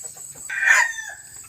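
A Thai fighting cock rooster with white cheeks crows once, loud and close, over a few soft clucks, with no talking.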